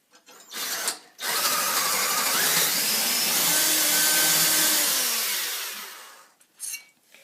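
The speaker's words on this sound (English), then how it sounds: "you have to drill a hole right here 2 centimeters in so the bolt" A power drill bores a bolt hole into metal angle stock for a motorless home-built toy car, a loud continuous whine running for about four seconds and slowly falling in pitch, with short bursts of noise before and after.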